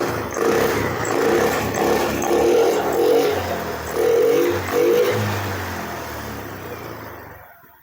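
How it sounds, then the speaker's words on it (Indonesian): A Yamaha Beat motorcycle engine, freshly rebuilt after a seized piston, starts with a loud high rev, surges a few times, then settles into a steadier idle, close and alone without talk. "Saat dihidupkan pertama itu seperti putaran gede dulu ya. Jadi putaran besar dulu,"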